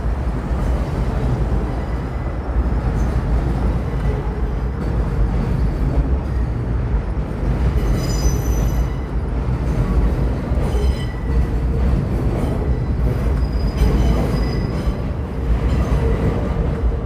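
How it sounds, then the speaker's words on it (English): A train rolls past in Brooklyn, New York, a steady loud rumble of wheels on rails with faint squeals and clatter throughout, close by and continuous. "See this train going by?"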